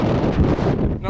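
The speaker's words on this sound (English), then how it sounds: "But it's windy as, sorry about that." Strong wind buffets a microphone outdoors, a loud continuous low rumble and roar filling the whole moment, with a brief voice-like tone near the end.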